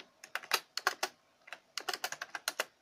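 Keys clatter on a QWERTY computer keyboard attached to an old 386/486-era AT PC, in irregular bursts of close, crisp clicks with a brief pause in between.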